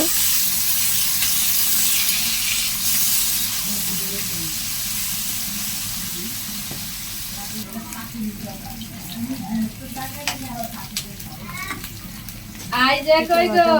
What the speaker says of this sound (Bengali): তেলের ভিতরে শুটকিটা ভেজে নিব